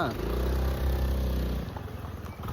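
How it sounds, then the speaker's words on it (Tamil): A vehicle, likely a motorbike, being ridden back in a village setting, its engine rumbling loud and close with steady revving for about a second and a half before easing off, as a voice briefly talks over it. "வண்டி திரும்ப ஒழுங்காக ஓட்டி வரான்னு பார்க்கலாமா நம்ம?"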